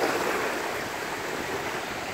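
Black Sea waves wash onto the central beach at Vityazevo near Anapa, a continuous broad hiss of surf and water close by, with no talking.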